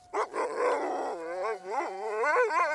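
Sled dogs, a mix of huskies, malamutes and Greenland dogs, bark in a brief burst and then break into sustained wavering howls, loud and close with several voices overlapping.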